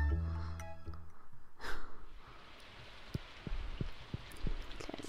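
Rain in the farming video game Stardew Valley, a steady soft hiss with scattered droplet ticks, following a brief musical tone at the start; no talking.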